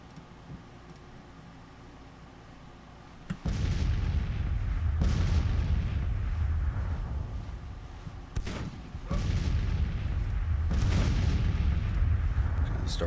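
Heavy Civil War cannon fire booms in Grand Tactician: The Civil War, several deep blasts with rumbling tails rolling out one after another over a quiet battlefield ambience.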